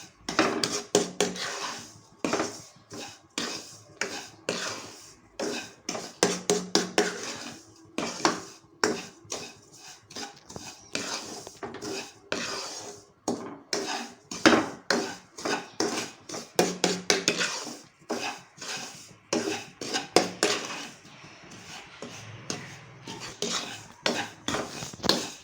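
Grated coconut roasting in a pan for semolina laddoos, stirred with a utensil that scrapes and clinks against the metal in irregular bursts, close and fairly loud, no talking.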